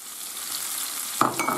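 Onion frying in hot olive oil with leek for a seafood cream soup, a continuous close sizzle with a sudden clatter of utensil against pan near the end.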